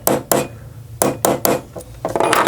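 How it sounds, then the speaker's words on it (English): Metal punch tapped with a hammer to drive a roll pin into a Ruger LC Carbine trigger assembly, a series of sharp, close metallic taps, irregularly spaced and quickening into a tighter cluster near the end. "just tap it in slowly, start very slowly"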